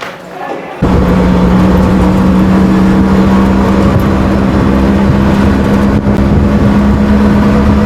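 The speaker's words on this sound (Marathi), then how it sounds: "चला रिक्षा पकडतो आणि बोलतो" An auto rickshaw ride in a village during the Shimga festival, the motor droning loud and steady from inside after a quiet start, with a constant low engine hum and road rumble.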